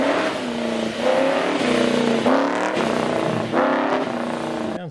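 Racing coupe engine revving hard in repeated surges, pitch climbing then dropping with each gear shift, loud and close with a raspy, buzzing tone and no talking over it.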